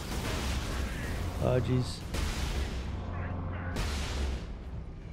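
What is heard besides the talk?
mortar fire in video game Space Marine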